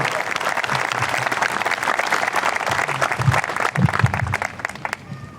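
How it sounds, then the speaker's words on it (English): An audience at the MRHS 2024 graduation ceremony applauds the teachers with dense, sustained clapping that fills the whole stretch, a few low voices mixed in, before tapering slightly at the end. "If y'all could give a huge round of applause for some of those teachers"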